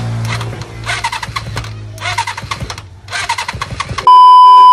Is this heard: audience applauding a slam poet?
no